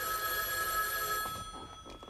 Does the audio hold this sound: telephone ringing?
yes